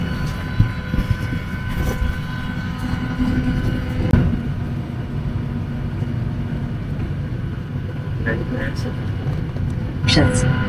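Airplane engines drone steadily inside the cabin, a loud, constant low rumble that fills the whole stretch, with faint voices and a few clicks and thumps over it.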